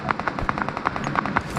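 Rapid automatic gunfire in the BGMI mobile battle game rattles off in a fast, even burst of sharp cracks, about a dozen shots in under two seconds, loud and continuous.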